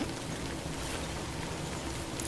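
Steady rain from the video game Death Stranding, a dense even hiss of falling drops spattering on surfaces, continuous and fairly loud throughout with no voices.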